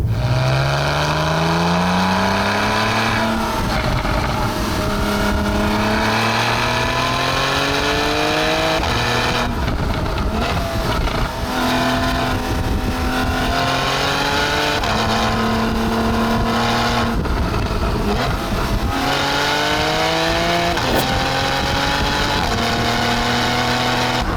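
A Porsche 911 (991.1 generation) in sport mode with manual shifting revs hard and accelerates through several gears, pitch climbing then dropping at each shift, loud and close with no talking.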